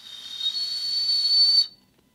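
A person imitates a high-pitched whistle, a sustained piercing shrill tone with a breathy hiss that holds steady for about a second and a half before cutting off abruptly into silence.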